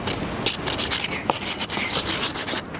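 A hand tool scrapes over the bark of a fruit tree trunk, a loud, close, continuous rasping rub with quick back-and-forth strokes and no talk.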